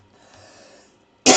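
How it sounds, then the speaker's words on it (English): A single sharp cough bursts out at the end after a faint, quiet breath, close and loud against near silence. "Man, I got a cough."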